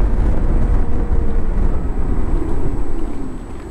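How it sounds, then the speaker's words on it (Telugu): A Simple One electric scooter being ridden, its motor whine mixed with heavy rushing wind noise, loud and continuous, easing slightly toward the end. "మనం నడిపేటప్పుడు మోటార్ నుండి సౌండ్ కూడా వస్తుంది"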